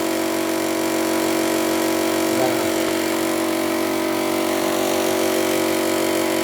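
Air leaks from a punctured tube in a steady, continuous hiss layered with a constant mechanical hum, holding the same level throughout.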